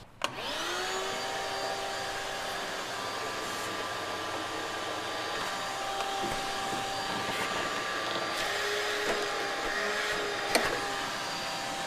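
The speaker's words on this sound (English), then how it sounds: "Let me get the vacuum." Vacuum cleaner running continuously to suck broken debris out of a cylinder on a 1972 Porsche 914 that sat for over 30 years, a steady whining drone with occasional clicks and knocks.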